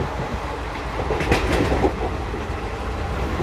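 A Raipur–Visakhapatnam passenger train rolls along the rails with a steady low rumble and a brief cluster of wheel clatter midway, heard from onboard with no one speaking.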